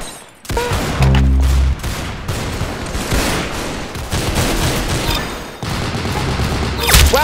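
Rapid gunfire from the online shooter game Arsenal crackles in dense bursts, with a heavy boom near the start and another sharp flurry at the end, loud and continuous throughout.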